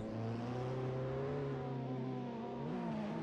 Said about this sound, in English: as you can hear him clacking down the gears, trying to get the car slowed for the little chicane switchback